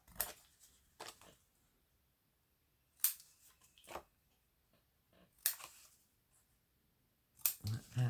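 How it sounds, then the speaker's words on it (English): Scissors trim small corner bits from paper for a vintage-style junk journal, giving several crisp, separate snips with quiet gaps between them at close range. "I'm just going to trim away these little corner bits"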